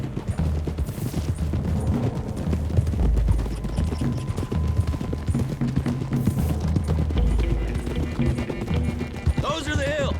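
Horses gallop in the Red Dead Redemption 2 video game, a steady dense clip-clop of hooves running throughout, mixed with a loud game soundscape and a voice talking over it.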